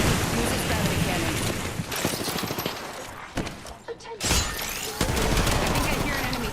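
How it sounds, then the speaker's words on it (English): A gravity cannon firing in a shooter video game, dense loud bursts and crackling blasts that run almost continuously with short breaks. "Use this gravity cannon."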